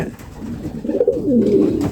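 Pigeons coo in a close, continuous run of low throaty calls that swells louder midway, with one bird heavily pregnant and the birds fed a mixed grain of wheat, maize and mustard seed.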